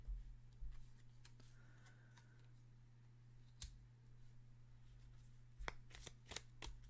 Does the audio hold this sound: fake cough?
no